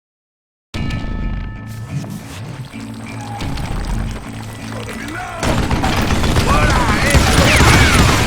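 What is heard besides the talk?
gunfire from the video game Call of Juarez: Gunslinger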